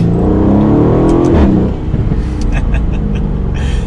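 A 2020 Aston Martin Vantage engine pulls hard in second gear, a loud, close, rising exhaust roar that drops as the revs fall and then burbles at lower pitch, with a voice speaking over it.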